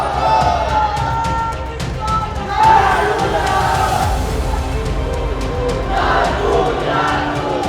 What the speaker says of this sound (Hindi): ये वीडियो उसी भीड़ का है जो नागपुर की सड़कों पर उतरी